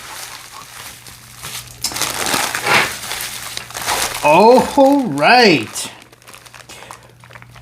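Tape and packaging crumple and crinkle loudly and close while mail is unpacked, in a run of crushing rustles with a person talking nearby.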